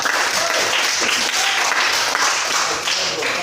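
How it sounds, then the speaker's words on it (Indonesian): Applause from a classroom group of students for a presentation team, steady dense clapping filling the room throughout, fairly loud and close. "Kita beri aplaus untuk kelompok 3."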